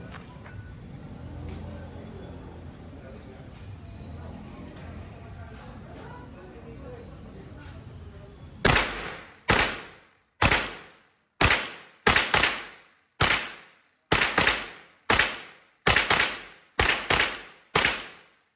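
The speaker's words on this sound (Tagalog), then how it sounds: "Firing." A Sarsilmaz SAR109T pistol fires about a dozen sharp, loud shots at an irregular, fairly quick pace after a stretch of quieter background murmur and handling noise.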